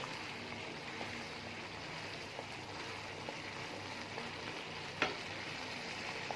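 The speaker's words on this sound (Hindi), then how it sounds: "मीडियम से थोड़ी हाई फ्लेम पे मैं अब इसे पका रही हूँ अच्छे से।" Apricot chutney thickened with sugar cooks over a medium-high flame, a quiet steady bubbling sizzle with faint stirring taps and one sharp clink near the end.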